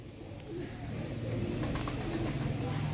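Ali wale pigeons from Sialkot coo softly in a steady low murmur, close by, against a continuous background hum.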